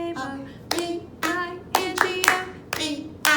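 Hands clap steadily along to the children's song Bingo, about eight sharp claps in a regular beat, with voices singing underneath.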